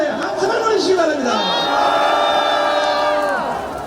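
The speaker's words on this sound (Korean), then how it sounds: "우리 이정님 제안에게도 감사의 함성을 보내주시기 바랍니다" A large outdoor rally crowd at Gwanghwamun in Seoul raises a loud, sustained roar of cheering and shouting, with whoops and chatter throughout and a stretched tonal cry rising above the din.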